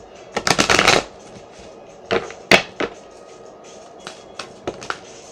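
A burst of riffling tarot cards being shuffled, followed by several separate card taps and flicks, close and crisp with no voices.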